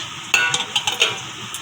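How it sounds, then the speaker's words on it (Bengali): Fish frying in a pan in a home kitchen: a steady close hiss with a few sharp scrapes and clinks of a spatula against the pan. "আর এই যে মাছ ভাজা চলছে"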